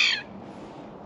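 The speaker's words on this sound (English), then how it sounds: "Yeah, very noisy birds" Noisy crows calling by a bay at dusk during a fishing session, one loud, harsh caw right at the start that fades into quiet outdoor background.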